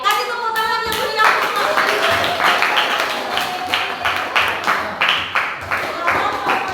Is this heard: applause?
yes